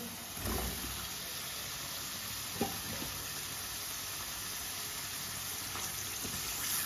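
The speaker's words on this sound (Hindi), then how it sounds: "गोभी डाल लेंगे कटी हुई।" Chopped cauliflower, washed beforehand, sizzles in a pan with spices for a Sabji. The frying hiss is steady and fairly quiet, with a few soft clinks and stirring sounds scattered through it.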